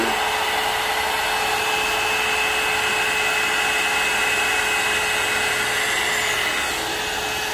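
A hot air brush blows with a loud, steady whirring hiss and a faint high whine, running continuously from start to finish.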